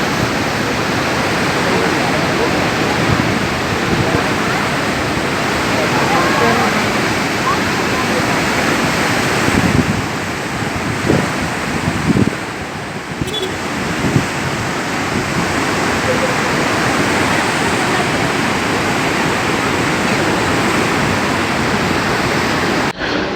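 Loud, steady roar of the Kaveri river rushing near Mettur Dam fills the whole clip, constant and close, with faint voices briefly audible beneath it.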